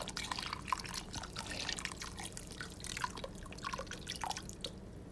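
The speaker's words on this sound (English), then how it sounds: "So I'm just pouring it in there." Beef stock and chicken broth pour into a crock pot, giving a steady trickling, dripping liquid stream at low level throughout, with small splashy drips scattered over a faint background.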